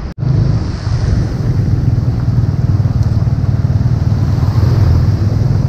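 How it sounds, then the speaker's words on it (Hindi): Seawater floods a waterlogged shore at high tide, a dense steady roar of waves and surf mixed with heavy wind buffeting the microphone, loud and continuous throughout with no talk. "हाई टाइड की वजह से यहाँ पर सारे जगह पानी आया हुआ है"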